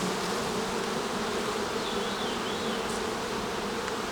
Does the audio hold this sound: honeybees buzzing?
yes